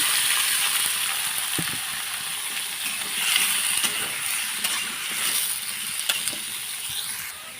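Ash gourd pieces fry with onions in a pan, giving a steady, fairly loud sizzle with occasional soft scrapes and taps from stirring.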